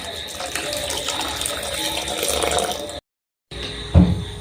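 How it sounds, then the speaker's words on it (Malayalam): Water pours steadily into a pot of sole fish curry with a gushing, splashing sound for about three seconds, then stops; after a short silence comes a brief clatter and a thump. "കുറച്ച് വെള്ളം ഒഴിച്ച് കൊടുക്കാം"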